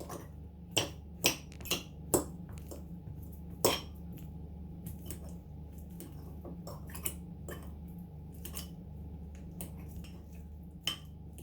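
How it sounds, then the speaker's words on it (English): Ripe bananas mashed into a puree for muffins, heard as irregular sharp clicks and taps of a utensil against a bowl, some in quick clusters, under a quiet steady background hum. "Keep mashing until they're really soft and that, and then they're like a puree."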